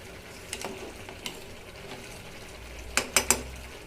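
Sambar bubbling in a pot after sambar powder is stirred in, a soft simmer with a few faint stirring knocks, then three sharp metallic clinks of a spoon against the pot near the end.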